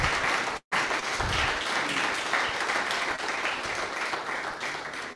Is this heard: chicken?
no